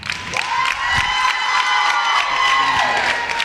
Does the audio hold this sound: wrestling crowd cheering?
yes